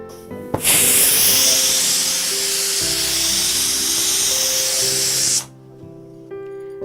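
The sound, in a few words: pressure cooker releasing steam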